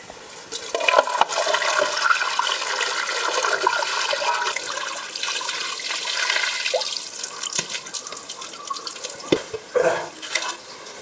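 Ripe mangoes are rinsed under a running tap, with continuous splashing and gurgling water, occasional drips and clunks of fruit being handled, fairly close and loud throughout.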